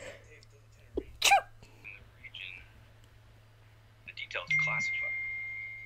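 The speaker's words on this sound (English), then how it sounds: "Oh, I'm gonna sneeze" A single abrupt sneeze bursts out close by, followed by quieter breathy sounds and a brief electronic tone near the end.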